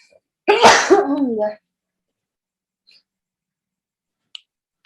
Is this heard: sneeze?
yes